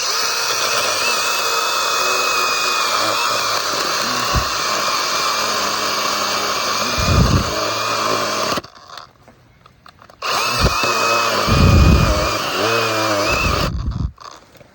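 A Makita DUC150 cordless mini chainsaw whines loud and steady while cutting a log over 20 cm thick, dropping out briefly twice before revving back into the cut.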